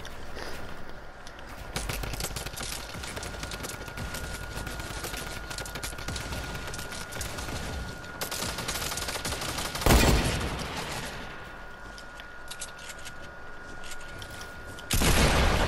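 Rapid gunfire bursts from a Fortnite Battle Royale match, dense crackling volleys running almost continuously with a few louder blasts and brief pauses, sounding close and loud, with no talking over it.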